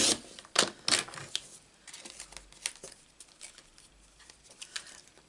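A paper trimmer cuts cardstock for a handmade card, with scattered close crinkles, taps and a short slicing rasp, quiet and irregular, no talk.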